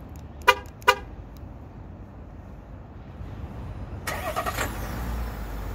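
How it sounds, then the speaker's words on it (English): A 2021 GMC Sierra 1500 pickup, remote-started with its auto starter: two short horn chirps, a few seconds of quiet, then the engine cranks and catches into a steady idle, alone without talk. "That right there was the engine kicking on using the auto starter."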